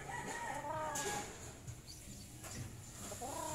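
Chickens cluck and murmur in a steady farmyard chorus, with higher calls rising at the start and end, moderately close.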